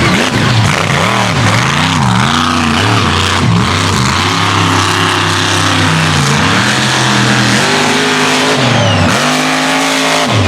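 A racing buggy engine at a mega truck mud race revs loudly and continuously close by, the pitch rising and falling in repeated waves with some tire noise.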